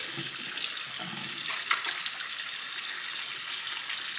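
Water runs steadily from a bathroom tap as hands are washed under it, a close continuous splashing hiss with small irregular splatters and no speech.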